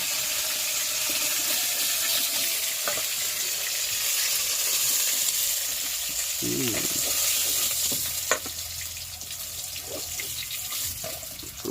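Pieces of raw tuna sizzle steadily as they fry in hot oil, with a few clinks and scrapes from stirring, and no one speaking.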